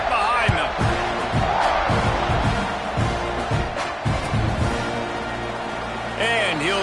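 Stadium crowd roaring in the football game NCAA 25 before a kickoff late in the game, a broad steady crowd noise under continuous commentary.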